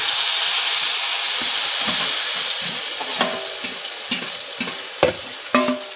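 Dried fish frying in a hot spiced masala, with a steady loud sizzle and steam hiss broken by the scrape and clack of a spoon stirring the pan.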